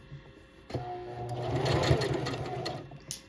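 A sewing machine stitching a seam on a slouchy tote bag starts abruptly and runs in a steady, close mechanical whir for about two seconds, then stops with a brief click.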